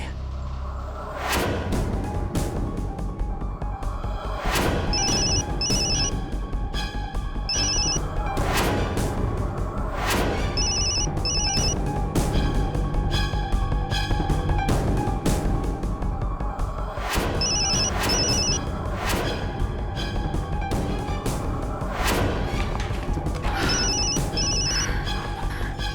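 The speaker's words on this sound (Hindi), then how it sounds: "ये उर्वशी फोन क्यों नहीं उठा रही?" A telephone rings repeatedly and goes unanswered, its bursts of ringing recurring every few seconds over a loud, dramatic musical score with sharp percussive hits.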